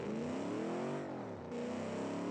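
A high-end sports car in a custom-car video game revs loudly and steadily, engine pitch sliding down and back up in smooth sweeps, heard alone and close.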